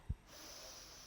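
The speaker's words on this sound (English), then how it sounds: "Take a breath." A single short, sharp nasal inhale or snort of breath during a yoga session, followed by a soft, faint steady hiss; it is very quiet and close.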